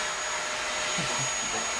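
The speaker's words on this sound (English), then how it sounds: "Excuse the vacuum cleaner in the background." Household vacuum cleaner running outdoors along a pathway, a steady broadband drone with a high whine, with faint voice sounds under it.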